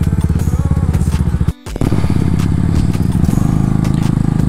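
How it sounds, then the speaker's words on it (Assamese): Motorcycles idle and rumble close by as they are parked at a festival ground near a golden pagoda, a steady pulsing engine note broken by a brief cut before the throbbing resumes. "ইয়াতে পাৰ্কিং কৰি দিওঁ আমাৰ বাইকবিলাক"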